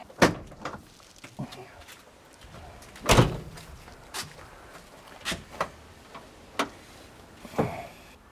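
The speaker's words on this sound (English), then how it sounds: "Let's crack the bonnet and have a look underneath there." A Ford Edsel's bonnet being opened: a sharp latch click and a heavier metallic clunk midway, among scattered lighter clicks and taps, fairly close.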